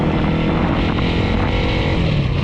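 A Lifan SR220 motorcycle engine runs hard and steady, a loud, close, continuous drone with rough low rumble while accelerating through the gears.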